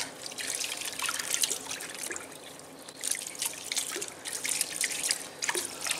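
Wild Okinawan island thistle greens being rinsed under running tap water, with a steady hiss of flowing water and intermittent splashing and dripping against the leaves and sink, close and fairly quiet.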